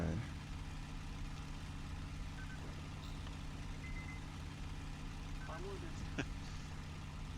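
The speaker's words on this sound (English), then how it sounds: "You can always tell a P-39 got a really weird engine noise" Bell P-39 Airacobra engine droning steadily during takeoff in the IL-2 Sturmovik flight game, a continuous low hum with a faint whine running throughout under quiet background sounds.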